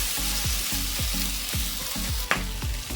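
Okra masala (bhindi) sautéing in oil in a pan gives a steady close sizzle, broken by about half a dozen soft scraping stirs at roughly half-second intervals and one sharp clink near the end.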